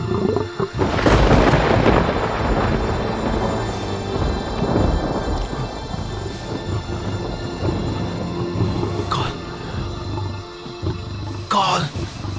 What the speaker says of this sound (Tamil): புயல் வர மாதிரி இருக்கு.